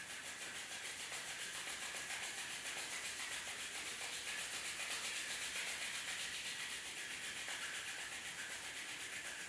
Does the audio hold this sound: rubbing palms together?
yes